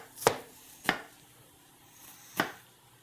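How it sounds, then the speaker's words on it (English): Three crisp knife chops cutting down into an onion on a cutting board, sharp isolated knocks spaced unevenly with quiet between them, close and clear. "Let your knife ride on your finger here and cut down into the onion."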